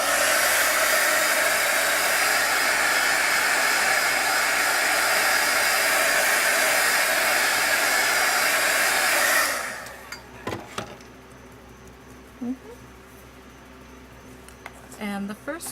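A hair dryer blows loud and steady up close for about nine seconds while it dries stamped washi tape. It then switches off, leaving a few faint handling sounds.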